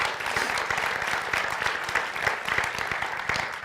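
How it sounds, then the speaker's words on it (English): A round of applause from an evening audience, steady and fairly close, with dense clapping running throughout and no talking. "Give him a round of applause."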